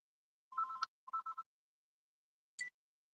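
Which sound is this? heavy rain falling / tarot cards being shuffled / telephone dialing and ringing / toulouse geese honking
telephone dialing and ringing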